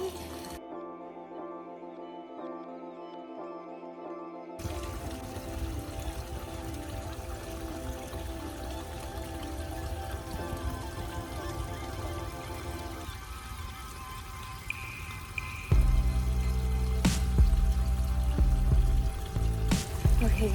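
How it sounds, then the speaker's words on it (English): Water streams over backyard pond waterfalls as the pond is being filled, a continuous rushing, splashing flow that holds steady and grows louder and fuller near the end. "I'm filling the pond up, testing the waterfalls to make sure that they're not overflowing anywhere."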